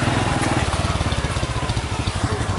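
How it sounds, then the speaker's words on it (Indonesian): Motorcycle riding along a muddy road after rain, its engine putting out a steady, close, throbbing drone with a regular pulsing rhythm throughout. "Mari kita ikuti terus jalan-jalan dengan naik motor aja karena becek habis hujan ya."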